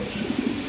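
Pigeons coo at a pigeon farm, a few soft low throaty coos in quick succession, close and fairly quiet against a steady background hum.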